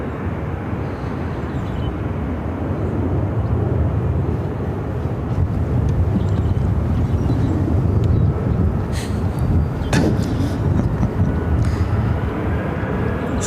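An American Airlines Airbus A321-200 on arrival at Phoenix Sky Harbor, its broad, steady engine roar holding loud and continuous throughout, with wind buffeting the microphone.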